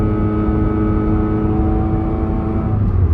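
A Honda City GN exhaust fitted with a Kakimoto GTBOX 06&S muffler holds steady at about 3,000 rpm, giving a loud, continuous, even drone with a deep rumble and a layered hum, and no voices.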